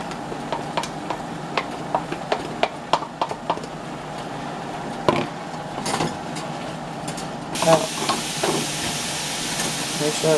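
Shrimp and mushrooms fry in a pan over a very high flame, giving a steady hiss of sizzling steam with scattered clicks and pops from stirring, heard close up throughout, alongside voices talking over it.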